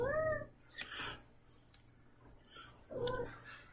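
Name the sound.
cat meowing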